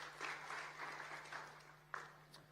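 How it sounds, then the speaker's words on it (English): Audience clapping at an African Bitcoin conference session, faint and distant bursts of applause in a large hall over a steady low hum, with a few sharper claps standing out. "Applause to that."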